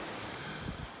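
Atlantic Ocean surf washes onto a sandy shore in a brief, steady rush of breaking water, with wind buffeting the microphone.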